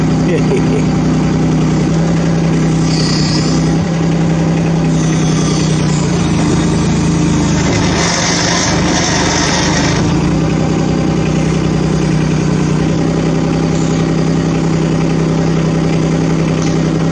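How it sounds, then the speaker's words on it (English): A small digger's engine idles steadily with a low, even rumble throughout, briefly rising around the middle before settling back. "With the engine idling like this, she's pretty slow"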